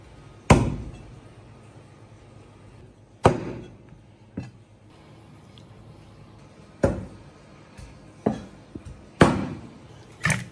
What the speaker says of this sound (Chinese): 咱们先把牛蛙改下刀， 先把牛蛙的这个脂去掉